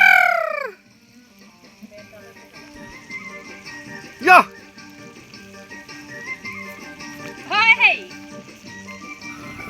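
A local hen clucks a few times, short bursts around a sizzling background hum of duck meat cooking, with a brief higher call at the start.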